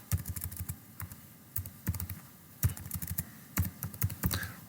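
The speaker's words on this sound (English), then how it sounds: "if I start typing" Computer keyboard keys clattering in quick irregular bursts of clicks, close and fairly quiet, during Python data-science coding work, with short pauses between flurries.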